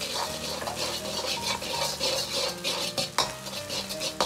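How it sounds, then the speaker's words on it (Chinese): Beaten egg is pushed and stirred quickly with a ladle in a hot oiled wok before soy sauce fried rice is made, giving continuous scraping, clinking metal and light sizzling with no talking. "接着把鸡蛋液拿高一点，倒入锅中，用勺子快速的推散"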